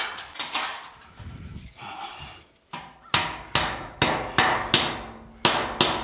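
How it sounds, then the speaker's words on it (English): Hammer blows drive nails into wood, about eight sharp, loud strikes. They start as a steady rhythmic run, then come more irregularly with short gaps, close up and with no talking. "I'm only going to put a couple of nails in this now just to hold it"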